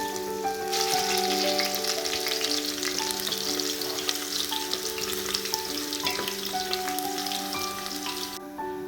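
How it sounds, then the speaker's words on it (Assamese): Onions sizzle and crackle in a hot pan over low heat, a steady close frying sound with a low background hum and no talking. "পিঁয়াজখিনি দি দিম। দি কম জুইত ৰঙচুৱা হোৱালৈকে অলপ ভাজিম"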